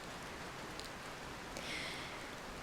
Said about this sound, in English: now it's raining quite profusely